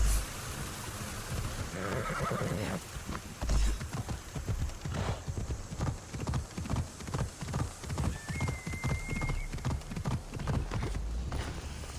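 A horse in the video game Assassin's Creed Odyssey clip-clops along in a steady, rhythmic gallop, with a neigh rising partway through, loud and close throughout.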